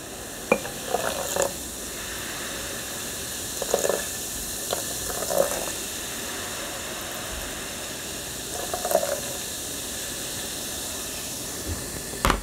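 Baking soda and vinegar fizz steadily in a popcorn-dancing experiment, a continuous soft hiss with scattered small pops and clicks, fairly close, without speech.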